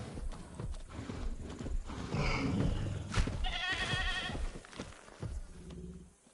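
A billy goat is hunted in the video game Jurassic World Evolution 2, with animal bleats and cries, thudding hoof-like steps and a sharp hit amid busy game sound effects.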